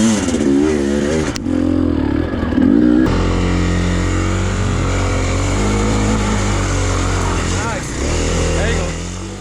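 KTM 250 EXC-F dirt bike engine climbing a mountain hill in Colorado, a loud, close, sustained rev that holds steady with brief changes in pitch, while a rider talks over it.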